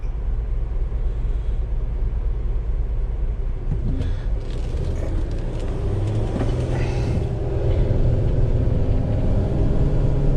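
A 2009 Fleetwood Icon 24D Class C motorhome with a Mercedes diesel engine climbs a hill, giving a steady low rumble and drone that grows slightly louder and rougher partway through, with no talk over it.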